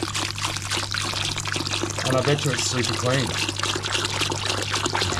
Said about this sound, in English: we're just going to get some RO water and give it a good old rinse